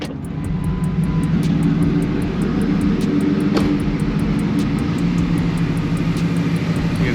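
A Ford SVT Lightning pickup truck engine idles in a steady, smooth drone, loud and close throughout without revving, with a faint ticking running alongside it.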